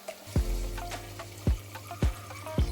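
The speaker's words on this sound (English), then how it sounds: "I'm now going to add the chicken stock and 4 large glasses of water." Glasses of water are poured one after another into a pot of beef and bindi stew, with splashy gushes and a deep plunk at each pour, close and fairly loud.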